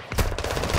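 Rapid machine gun fire in Modern Warfare 2 game play, a quick burst of about six to seven close, loud shots in even succession.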